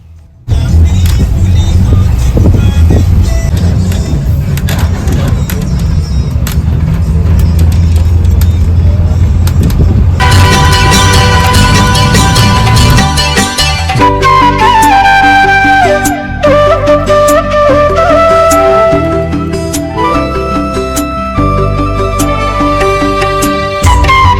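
Steady engine rumble and road noise fill the cabin of a local bus in Mauritius as it drives along in the rain. About ten seconds in, loud tonal music starts playing over the vehicle noise and carries on to the end.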